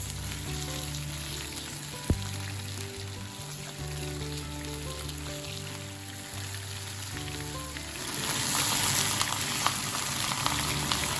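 Chicken pieces browning in hot oil in a pan, a steady dense sizzle under a low tonal hum, growing louder and crackling more in the final few seconds.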